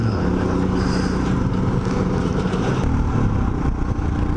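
Steady engine drone of a vehicle overtaking a truck on a Himalayan mountain road near Khardung La, with a continuous low rumble and slight revving, close and loud throughout.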